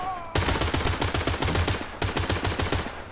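Rapid enemy shotgun and crossbow fire in the video game Pioner bursts in after a brief quiet moment, a dense run of loud close shots in a fast, nearly steady rhythm with one short break.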